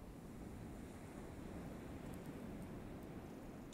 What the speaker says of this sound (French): Tu vois ces vagues qui s'éclaboussent